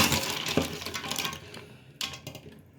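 Cooked mussels being lifted out of a pot with a metal skimmer, giving close shell clinks and clattering rattles, busiest at the start and again briefly near the end.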